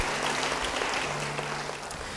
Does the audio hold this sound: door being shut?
no